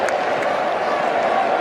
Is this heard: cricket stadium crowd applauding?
yes